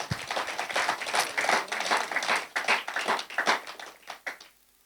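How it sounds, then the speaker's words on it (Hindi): An audience at a stage event breaks into dense, lively applause of many hands that holds for several seconds before thinning and dying away. "इनके लिए भी जोरदार ताली होना चाहिए।"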